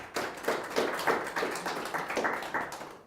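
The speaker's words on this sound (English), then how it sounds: "So please give a rapturous, warm round of applause to Mr." An audience claps for a speaker being welcomed to the stage. The clapping comes in a fairly even rhythm of distinct bursts at moderate volume, with no talking over it.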